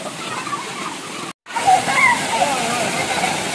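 Cold, fresh water gushes from a farmhouse tubewell in a steady, loud rush with a brief break partway through, while a person talks over the flow.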